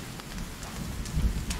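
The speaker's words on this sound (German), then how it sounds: "Jetzt fängt er doch noch an zu regnen" Rain beginning in the video game Sons of the Forest, a soft steady patter with scattered louder drops and a low rumble, fairly faint.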